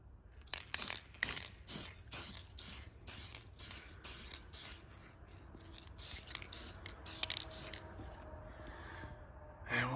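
Aerosol spray paint applied to a Ford Focus car part in repeated short bursts, a steady rhythm of hissing sprays at close range, later turning into longer, more continuous hissing.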